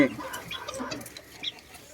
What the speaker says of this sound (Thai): ตัวนี้เป็นไก่หนุ่มนะ